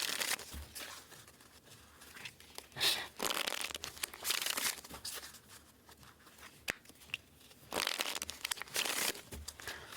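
Oracle deck cards handled, shuffled and tossed down onto a surface in close, crisp bursts of crinkling and slapping, with quieter rustling between the bursts and no talking.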